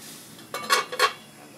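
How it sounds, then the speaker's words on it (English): A beef and broccoli stir fry gets stirred in a pan, with two or three close metallic clanks and scrapes of a utensil over a quiet background and no talking. "Okay, so we're going to stir that up again"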